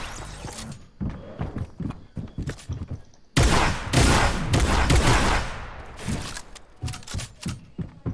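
Bursts of rapid gunfire in a shooter game, first as short spaced volleys, then a loud sustained spray lasting a few seconds before tapering back into scattered shots.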